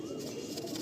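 Madrasi pigeons, an active breeder pair being handled, give soft low cooing in a continuous murmur close by, with no talk over it.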